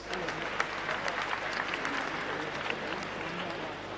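Congregation clapping at a thanksgiving service for the Asantehene's final funeral rites, a large crowd's dense, sustained applause filling the whole stretch with scattered sharper claps.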